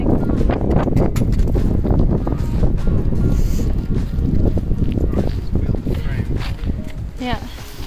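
Strong wind gusts outdoors at a deserted spot, a loud, continuous roar buffeting the microphone for the whole stretch.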